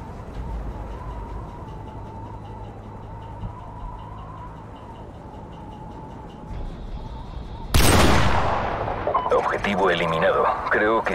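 In Call of Duty 4: Modern Warfare Remastered, after a quiet stretch with low rumble, a single sharp, loud shot bursts out, followed by ringing noise and voices.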